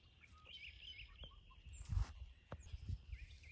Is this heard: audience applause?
no